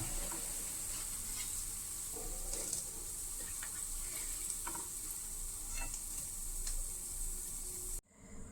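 Fried mushroom balls are scooped out of sizzling oil, a continuous bright crackling sizzle with light stirring and scraping clicks throughout, cutting off abruptly near the end.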